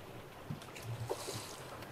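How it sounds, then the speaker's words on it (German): Steady wind and rushing water wash around a sailing yacht running under genoa alone on a broad reach at about 18 knots of breeze, a continuous roar with faint creaks and splashes. "Haben raumen Wind mit ca. 18 Knoten und sind gerade mit über 5 Knoten unterwegs."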